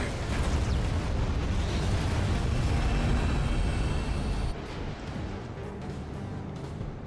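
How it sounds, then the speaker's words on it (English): A loud, sustained explosion in the mech combat game Armored Core VI, a dense low rumble that holds for about four seconds before dropping to a quieter roaring tail. "That was an explosion."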